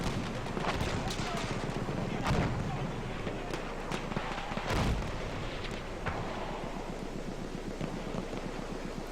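Rifle and other gunfire in the video game Battlefield 1 during a 20 vs 20 Conquest match crackle in a dense, steady barrage of sharp shots and booming blasts, loud throughout, with a voice speaking over it at times.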